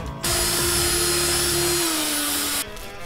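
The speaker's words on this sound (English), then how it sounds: "I just had to drill through the bottom to skewer them" A power drill whines loudly and steadily for a couple of seconds as it bores through the bottom of a pumpkin, starting and stopping abruptly.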